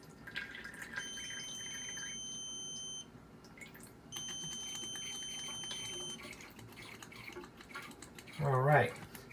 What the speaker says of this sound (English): When the water reaches the sensor, it's supposed to beep to let you know that the level is where it needs to be.